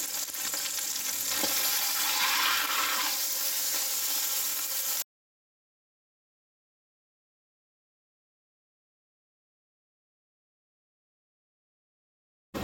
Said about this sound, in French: je mets le rôti et je le fais cuire à feu élevé mais non vif